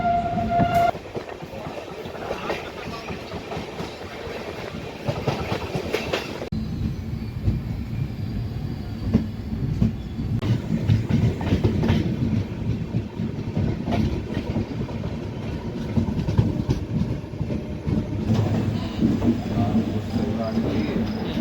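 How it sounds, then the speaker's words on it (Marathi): A Bhagat Ki Kothi Express passenger train pulling out of Narmadapuram, heard from on board as a loud continuous rumble with rhythmic clickety-clack of the wheels, a brief whistle near the start, and voices faintly mixed in. "नर्मदापुरमवरून आपली ट्रेन जी आहे ती निघालेली आहे"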